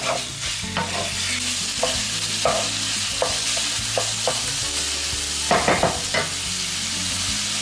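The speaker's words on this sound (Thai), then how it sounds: "ผัดสัก ให้กุ้งสุกครึ่งหนึ่งนะคะ" Chopped shrimp stir-fry in a pan for spicy basil shrimp, a constant close sizzle with regular scraping strokes of a spatula, and a flurry of quick scrapes near the end.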